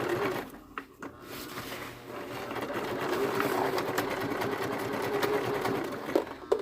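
A sewing machine stitches a hospital gown, a steady whirring run of stitching after a few brief handling sounds at the start.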